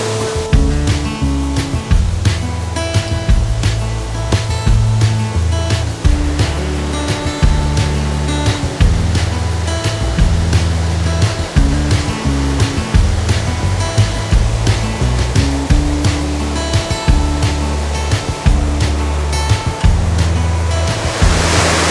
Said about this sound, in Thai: เสียงมันดังมากนะนี่คือการตะโกนคุยกับน้ำตกนะครับ